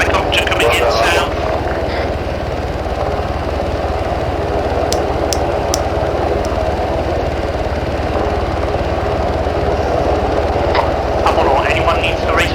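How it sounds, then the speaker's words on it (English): A helicopter in the military game Arma 3 arrives with a loud, steady, close rotor and engine drone that holds throughout, while voices talk over it. "Apollo, Ron, second helicopter coming in south."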